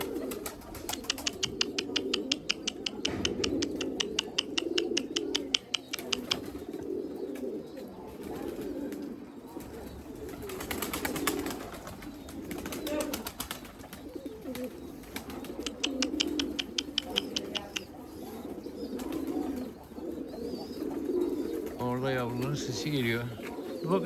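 A flock of white breeding pigeons coos in soft, throaty, overlapping calls close by, with wing flutters and rustling mixed in. A person talks intermittently over the birds.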